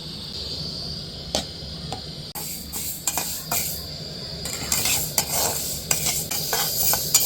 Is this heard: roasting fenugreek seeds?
yes